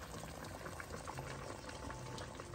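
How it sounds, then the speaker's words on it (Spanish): A pot of beef ossobuco stew comes to a boil, with a continuous dense bubbling and gurgling that stays even and close throughout, with no talk. "Ya empezó a hervir, entonces ahora lo que vamos a hacer es bajar nuestra flama al mínimo"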